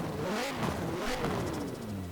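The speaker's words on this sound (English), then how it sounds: "That's the wastegate down there." Turbocharged Mercedes-AMG GT R drift build in Forza Horizon 4, engine revving up and down in quick swells with hissing, fluttering bursts from the turbo wastegate between throttle blips, fairly faint.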